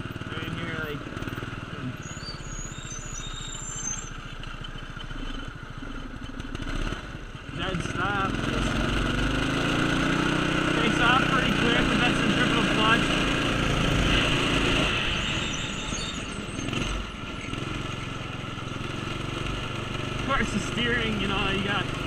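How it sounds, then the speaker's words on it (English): Manco three-wheeler with a small one-cylinder engine running, a buzzing putter that rises in pitch and loudness as it accelerates midway and stays close throughout, with someone talking over it. "it's pretty quick for, you know, just a little one cylinder"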